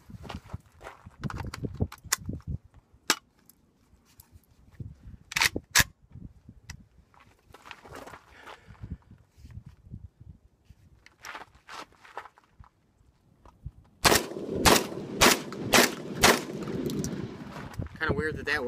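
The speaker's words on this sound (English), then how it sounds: "Here's another test with the 8 ounce target loads, Federal, with the cylinder choke and the higher gas setting." A Catamount Fury II 12 gauge semi-auto shotgun fires Federal target loads with a cylinder choke and high gas setting. Sharp reports ring out singly, then in a quick string near the end, amid handling noise and shuffling.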